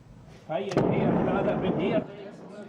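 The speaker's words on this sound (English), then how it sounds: "This was the explosion heard all over the city of Hebron last night." A powerful blast demolishes a house in Hebron at night, a sudden loud crack followed by a rumbling roar that lasts over a second before cutting off, with a voice heard just before it.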